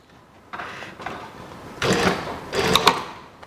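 Sewing machine topstitching a jeans waistband in short bursts of mechanical whirring and needle clatter, two longer, louder runs following lighter starts, with no talk.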